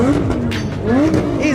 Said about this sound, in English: We can't leave, and they're revving everywhere